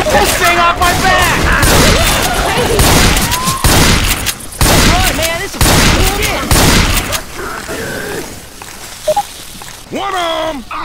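Loud bursts of gunfire in the zombie shooter Left 4 Dead 2, rapid volleys and booms coming in waves over panicked shouting from several voices.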